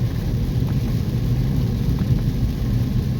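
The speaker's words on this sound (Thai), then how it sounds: "มากับฝนนะครับ หลายวันนะครับที่ไม่ตกนะครับ วันนี้ก็ ลงหนักเลยนะครับ" Heavy rain beats steadily on a car driving a rural road between Rattanaburi and Samrong Nong Ka in Si Sa Ket, Thailand, a dense continuous wash over low engine and tyre rumble, with no talking.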